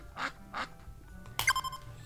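A toy duck or someone imitating a duck gives two short, nasal quacks close by, followed by a brighter squeaky honk near the end, with no talking over it.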